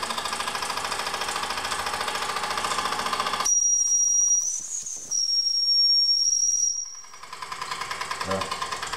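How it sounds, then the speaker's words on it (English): A running Wilesco D6 toy steam engine chuffs in a rapid steady rhythm, then a shrill steam whistle blows loudly for a few seconds over hiss before the quick chuffing resumes. "It will wind up pretty quick, but you know, I try to keep the RPMs down"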